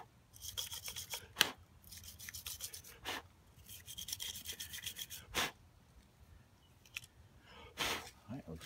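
Brush scrubbing the mating surface of a 2009 Mercury 20 HP four-stroke outboard carburetor, close rasping strokes in uneven bursts with several sharper scrapes, fairly quiet overall.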